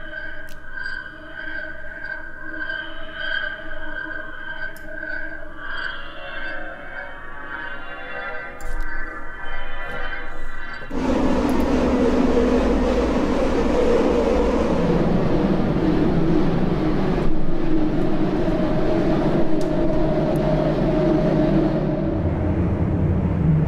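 Swarm drone patches from the UVI Drone FX library, opening with layered ominous tonal beeps and sustained pitches, then shifting abruptly to a dense, buzzing, churning wash of noise with deep rumble, continuous and loud with no voices.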